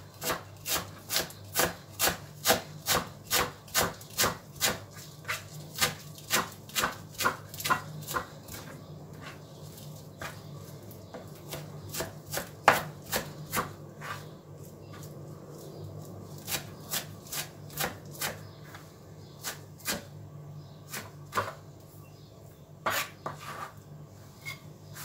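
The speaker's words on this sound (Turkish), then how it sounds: "Onları ufak ufak doğrayacağım" A knife chopping dill and parsley on a board, quick rhythmic taps in bursts with brief pauses, close and fairly quiet.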